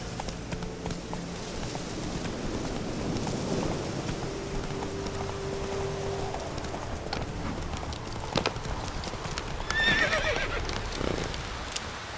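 A horse in The Witcher 3 moves with rhythmic hoofbeats and gives a whinny over a soft, rain-like background hiss, at moderate volume with no speech.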